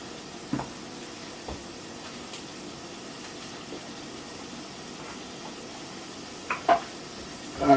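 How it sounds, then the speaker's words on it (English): Kale frying in a pan gives a steady, quiet hiss and sizzle throughout, broken by a few soft clinks and knocks from utensils, the loudest near the end. "It's starting to do that sizzle."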